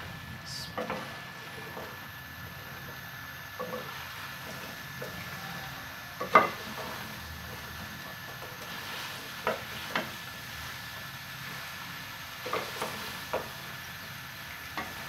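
Spicy okra and potato masala is stirred in a pan with a spoon, giving soft scraping and clinking strokes over a faint, steady sizzle. A few sharper taps land at irregular intervals.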